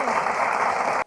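Audience claps steadily at a Navratri festival cultural programme, a brief dense burst of applause that stops suddenly at the end.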